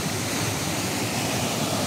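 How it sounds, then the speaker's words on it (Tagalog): Strong rushing water pours through a forest stream, a steady, loud, broadband roar that fills the whole short stretch without pause. "Lakas ng tubig oh."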